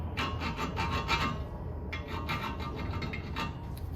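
A 1.50-pitch thread file rasping back and forth over the threads of a rear wheel stud on an 8th-generation Honda Civic, quick rhythmic strokes up close with a short pause midway.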